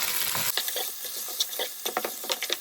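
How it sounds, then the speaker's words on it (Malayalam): Beef curry masala is stirred and sautéed in a hot pan: a loud sizzle first, then scraping spoon strokes with bursts of sizzling, close and with no talk. "എന്നിട്ട് നമുക്കൊന്ന് വഴറ്റി കൊടുക്കাം"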